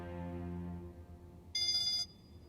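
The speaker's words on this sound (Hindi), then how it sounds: "कोई जरूरी बात होगी तभी तो अभी तक फोन बज रहा है" A phone ringtone sounds: a low tonal chime fades out, then a bright electronic burst of ringing lasts about half a second, with no one talking.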